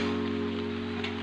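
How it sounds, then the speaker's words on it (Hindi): Light rain falling in a courtyard, a steady soft hiss with a constant low hum running beneath it, no voices. "देखो आंगन में थोड़ा थोड़ा पानी भी भर चुका है और हल्का हल्का अभी भी बारिश हो रहा है।"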